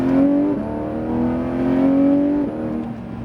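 Porsche 911 GT3 RS accelerating hard on a race track, a loud close engine wail holding a strong tone, with a quick gear change around the middle before the note climbs again, no talk.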